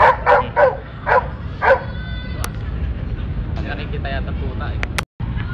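Puppy barking: four quick sharp yaps close by in a rapid burst, then quieter background noise with faint distant sounds.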